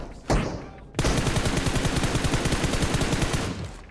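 Enemy gunfire in a battle royale video game: a single loud shot, then a sustained rapid automatic burst with evenly spaced rounds, close and loud, cutting off abruptly.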